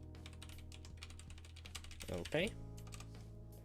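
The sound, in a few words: typing on a computer keyboard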